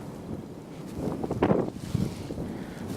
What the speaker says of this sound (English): The wind is blowing, as you can probably hear.